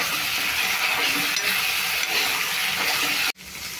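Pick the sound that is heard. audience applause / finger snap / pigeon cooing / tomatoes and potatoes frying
tomatoes and potatoes frying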